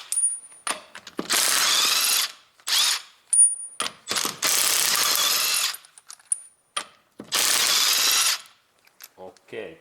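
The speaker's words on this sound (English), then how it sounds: "we use this my impact driver, what I can recommend, Makita battery base, and bolts opens really nicely and fast" A Makita cordless impact driver loosens wheel bolts on a Toyota Prius in sharp, loud hammering bursts of one to two seconds, separated by brief pauses and a few short taps.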